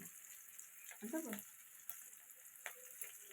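Chicken frying with onions in a pan, a faint, continuous sizzle with a brief stirring scrape and a few small pops, heard at low level throughout.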